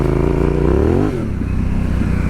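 A Yamaha Tenere 700 adventure motorcycle revs hard as it accelerates off-road on rough single-track terrain, its engine note climbing steadily and loud, then dropping sharply as the throttle closes, with clattering over uneven ground.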